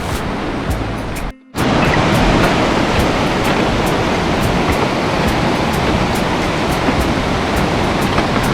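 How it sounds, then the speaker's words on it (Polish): Loud, steady rushing of a fast canyon stream close by in Sapadere Canyon, Turkey, a dense continuous roar with a brief dropout near the start. "Woda szumi"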